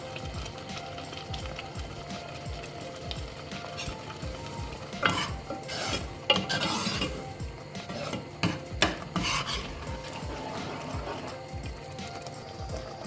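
Mango dal simmers in a pot with a low, constant bubbling hiss, while a spoon stirs and clanks against the vessel in irregular bursts that swell louder midway.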